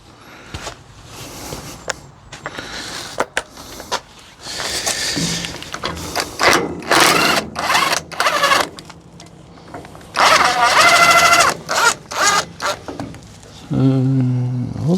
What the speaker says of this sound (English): Gonna get our gun, put our 17 on.